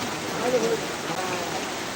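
Steady sudden rain falls outdoors in a dense, even hiss that holds for the whole stretch, with a brief faint murmur of a voice near the middle.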